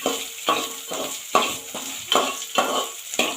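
Onions sauté in a pan over low flame for upma, with rhythmic scraping stirs about every half second over a soft sizzle, loud and close with no voices.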